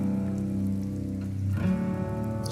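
Heavy rain falls at a roadside rest stop in Sakon Nakhon, a steady broadband wash with a continuous low hum underneath and a brief shift near the end, no talking.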